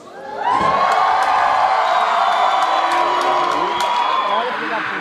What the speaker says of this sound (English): At Central States, we say inbounds, and the inbounds all cheer